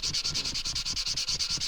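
Sandpaper is worked back and forth across a PRS style guitar body in quick, regular strokes, a close, rhythmic scratchy swish repeating about six times a second with no voices.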